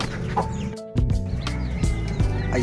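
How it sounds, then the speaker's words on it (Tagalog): Several chickens cluck and murmur close by among banana trees, with short overlapping calls and a brief pause in the middle. "yung mga manok natin."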